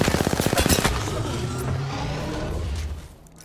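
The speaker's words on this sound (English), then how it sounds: "Taking fire." Rapid automatic gunfire in Apex Legends, a loud close burst of quick repeating shots that trails into echoing reverberation and fades out.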